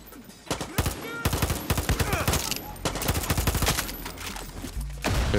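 Rapid bursts of gunfire from a firefight in the video game Far Cry 6, with dense overlapping shots and automatic fire running loud and nearly continuous throughout.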